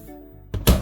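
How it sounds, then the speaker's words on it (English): A washing machine door pulled open indoors in a studio apartment, giving a single close, dull thunk after a brief click, with no talk. "to open the door, it just pulls open"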